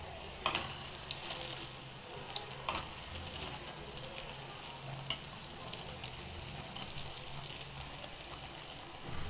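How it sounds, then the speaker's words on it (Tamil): Greens frying in a pan for kelvaragu murungai keerai bonda are stirred with a metal rod, giving a steady soft sizzle with a few sharp scrapes and clinks near the start and again around the middle. "இந்த மாதிரி கம்பியை வச்சு கிளச்சி விடணும்."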